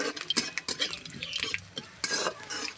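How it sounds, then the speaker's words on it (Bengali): A tempering of one dried red chili, a bay leaf and whole cumin fries in hot oil, with close, crisp sizzling and repeated scraping stirs of a spatula against the pan. "ফোড়নটা ভালো করে ভেজে নেব"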